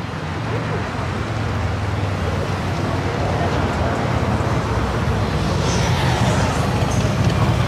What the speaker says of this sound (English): There's a little bit of the traffic.